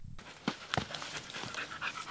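Dogs from the Philippine Canine Search and Rescue Team pant during a mountain search mission, with soft, quick breaths and a few sharper huffs, heard faint and close in a quiet setting.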